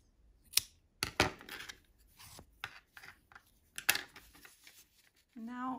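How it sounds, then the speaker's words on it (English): Scissors snip through crochet yarn in a few sharp close cuts amid light handling rustle, ending on a short voiced tone. "and I am going to cut the yarn."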